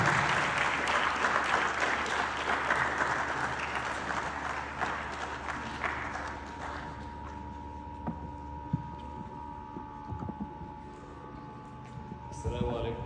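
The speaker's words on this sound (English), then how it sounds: "we don't stop clapping, ladies and gentlemen" Audience applause at an energy conference fills the opening seconds, then thins and dies away, leaving a quieter room where a voice speaks.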